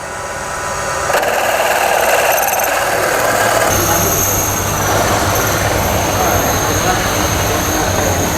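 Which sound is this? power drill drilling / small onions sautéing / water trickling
power drill drilling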